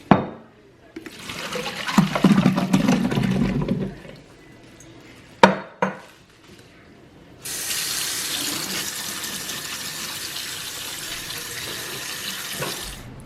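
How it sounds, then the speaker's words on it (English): A kitchen tap runs while grapes and other fruit are rinsed, the water splashing and clattering in a sink, stopping briefly amid clunks, then flowing steadily and strongly for several seconds nearby. "now I am going to just rinse the fruit off."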